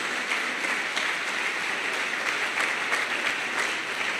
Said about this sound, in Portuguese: Vamos aplaudir o Senhor nosso Deus.